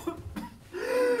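A person coughing and clearing their throat up close: a few short rough bursts, then a strained, voiced throaty sound at the end.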